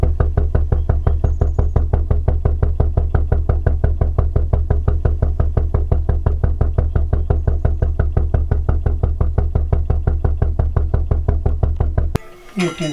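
A vintage Witte engine running slowly, exhaust knocking in an even, loud, close rhythm of about four beats per second, sustained for many seconds before cutting off abruptly at the end.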